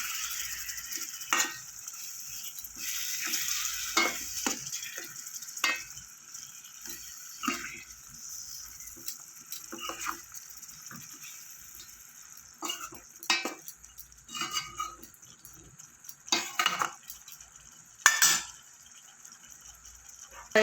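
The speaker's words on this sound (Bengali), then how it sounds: "এবার একটু গরম মশলা দেবো সামান্য, দিয়ে এটাকে একটু নাড়াচাড়া করে দেবো।" Rui fish masala curry being stirred in a pan after garam masala goes in: soft sizzling underneath irregular scrapes and metallic clinks of a spoon against the pan, close and fairly quiet.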